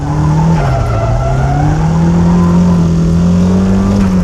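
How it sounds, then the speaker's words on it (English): Car drifting through a corner with the e-brake pulled, a loud, sustained tire squeal sliding in pitch over a steady engine drone, up close and without talk. "If the weight won't shift, e-brake it."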